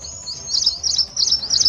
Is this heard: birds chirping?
yes